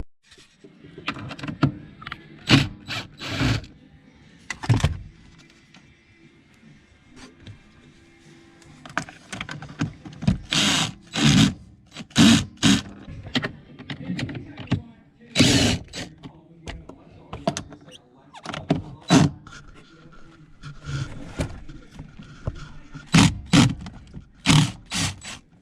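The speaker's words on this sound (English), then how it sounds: "Just gonna take those few bolts out," Bolts being taken out of a car heater box during a heater core swap: a series of sharp metallic clicks, clanks and ratcheting bursts, close by, in irregular clusters with quiet gaps between them.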